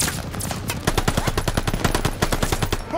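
Rapid bursts of automatic gunfire in Call of Duty: Vanguard, loud and close, with dense rattling shots running almost continuously through the moment.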